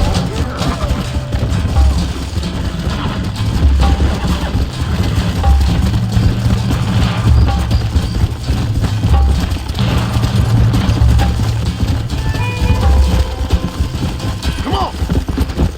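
Horses in the Red Dead Redemption video game clop along with faint hoofbeats, buried under dense, loud game noise and rumble.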